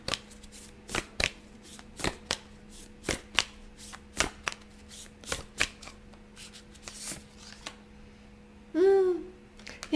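A deck of tarot cards is shuffled close by: a run of crisp, sharp card slaps and riffles at an uneven rhythm, with a short louder rustle near the end and no voices.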